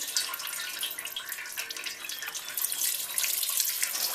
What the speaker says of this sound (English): So I'm draining the crankcase